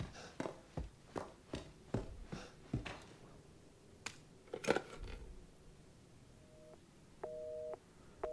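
Phone busy signal inside Resident Evil 7's Beginning Hour demo: a few short, faint, evenly spaced beeps near the end, preceded by a run of soft tapping clicks, with no talk.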